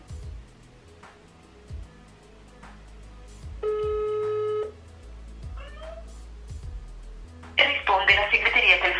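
An unanswered telephone call plays one long, steady electronic ring tone lasting about a second. Brief sounds come before and after it, and a voice can be heard toward the end.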